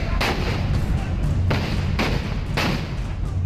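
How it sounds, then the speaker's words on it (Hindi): Gunshots ring out during a clash between rival supporters at a block chief election nomination in Sitapur, Uttar Pradesh, with four loud booming reports spaced about half a second apart against a rough, noisy background. "फिर पहले गोली चलने की आवाज आती है"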